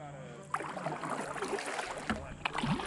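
Kids paddle a small Pelican kayak on the water, with soft splashes and paddle dips over faint watery ambience and some voices in the background.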